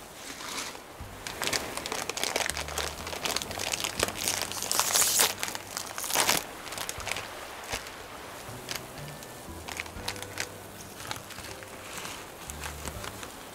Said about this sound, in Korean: 이제 과자 씹는 소리만 들어도 무슨 과자인지 예측해야